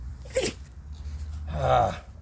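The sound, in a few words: person sneezing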